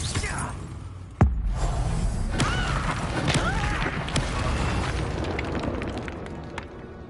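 A Confringo explosion spell in Hogwarts Legacy goes off as a sharp, loud blast with a crackling, fiery tail, followed by magical whooshes and scattered pops over a busy background.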